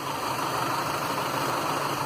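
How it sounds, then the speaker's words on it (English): A 2002–2007 Mitsubishi Lancer with the F4A42 automatic transmission idles in park, giving a steady, even engine hum with faint vibration and no voices. "With it in park, idling, the engine has to be running."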